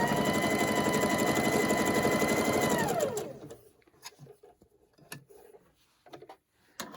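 A sewing machine runs in a fast, steady whir for about three seconds, then winds down, followed by faint clicks and handling noises.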